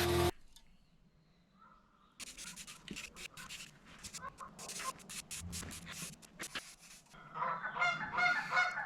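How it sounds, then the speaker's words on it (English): A flock of geese honks in the distance, scattered calls growing into a louder overlapping chorus toward the end, with scratching and handling noises nearby. "Geese are having a party down there."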